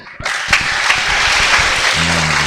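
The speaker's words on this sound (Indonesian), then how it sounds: "Ya, tepuk tangan." A congregation at an Islamic religious talk breaks into applause, loud close clapping that swells quickly and continues steadily, with a low hum entering near the end.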